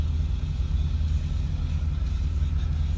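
A modified Pontiac G8 drives around an autocross track, heard from inside as a constant deep engine rumble and road drone with little change in pitch.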